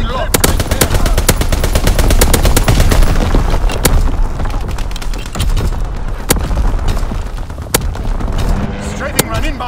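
Call of Duty: WWII multiplayer battle audio in a domination match: dense, loud machine-gun bursts and gunshots with booming artillery, while game announcer voice lines play over the fire.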